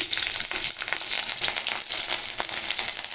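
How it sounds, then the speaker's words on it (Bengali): Slit dried red chillies fry in hot oil, giving a bright, constant sizzle with quick crackles and pops close by and no talking. "এই যে দিয়ে দিলাম শুকনো লঙ্কা"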